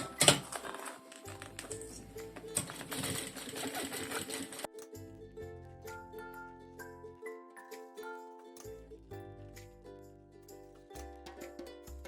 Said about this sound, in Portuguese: vamos fazer a costura